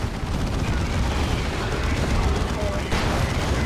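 A Leman Russ tank fires its Vanquisher cannon amid a 3v3 Dawn of War 2 battle, heavy booming gunfire and explosions packed into a constant dense roar, with commentary over it.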